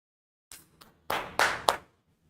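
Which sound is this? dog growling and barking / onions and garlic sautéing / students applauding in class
students applauding in class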